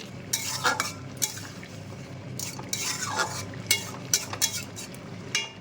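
Potato chorchori cooking in a pan while being stirred, with bursts of metal spoon scraping and clinking against the pan over a low sizzle, close by and without talking.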